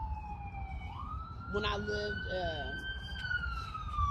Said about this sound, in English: That's an ambulance, right? It should be. That's what the siren sounds like.